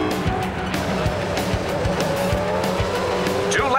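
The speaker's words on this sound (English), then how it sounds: "Just listen to those powerful engines roar!" Formula 1 race cars in a cartoon race roar steadily as a pack, a dense continuous engine drone with tire squeal and skidding layered on top, loud and close, with a rising whine near the end.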